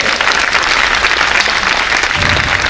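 A church congregation applauds in acclaim of Mary, a loud, dense and sustained clapping from a large crowd, steady for the whole stretch.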